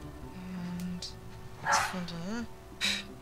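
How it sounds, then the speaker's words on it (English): A dog barks and yips in the video game Uncharted 4, a few separate close calls with whiny, pitch-bending tones between them, over steady game ambience. "that's a barking dog."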